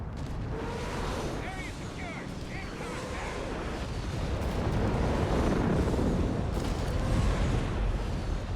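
Artillery barrages pound a neighborhood in Company of Heroes 3, a dense rumbling stream of booms and blasts with a steady roar that swells toward the middle, under a game mix with possible faint voices.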